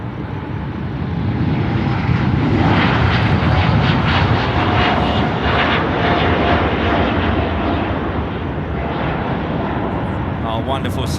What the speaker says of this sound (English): it is rolling runway 34 left and will be here very, very soon